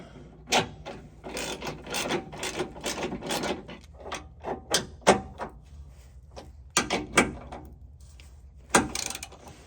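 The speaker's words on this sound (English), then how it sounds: "I'm just going to torque these back up to 100 foot-pounds of torque" Mudflap bolts on a Ford Bronco are tightened with a wrench, heard as close bursts of rapid ratcheting clicks separated by short pauses.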